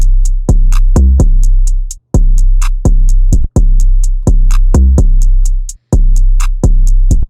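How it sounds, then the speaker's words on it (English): A trap beat with sustained 808 bass notes under a steady hi-hat and drum pattern, with a short 808 transition note dropped an octave; loud, even and rhythmic with brief gaps between phrases. "throw that last bounce note down an octave and make sure it's super short like this."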